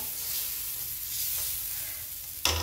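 Mung bean dhirde batter sizzles and crackles steadily on a hot griddle as it is spread thin, ending in a brief louder scrape or clatter.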